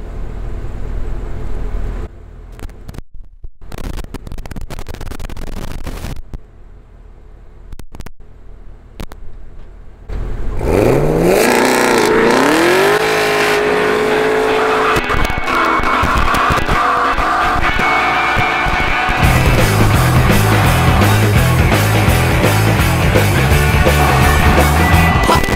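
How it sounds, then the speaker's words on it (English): A 2017 Camaro ZL1 and a Mustang GT do a burnout, with quiet idling and short revs at first, then a sudden sustained roar of high-revving V8 engines and screeching tires that stays loud to the end. "gonna do a burnout"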